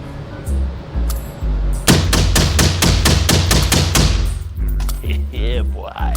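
A suppressed pistol is mag-dumped at a shooting range: about a dozen rapid, evenly spaced sharp reports, loud and close, with someone talking briefly before and after the string of shots.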